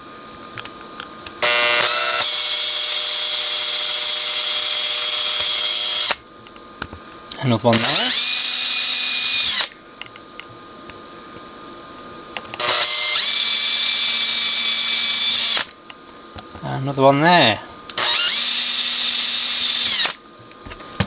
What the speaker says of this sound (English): I'm going to drill some holes down along here and make wire hinges.